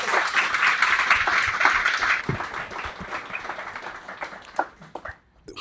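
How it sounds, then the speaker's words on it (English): Applause from the crowd at an entrepreneurial summit honors the panelists on a PR, branding and marketing panel, loud at first and then thinning out into a few scattered claps before it stops. "Can you guys give those guys a round of applause"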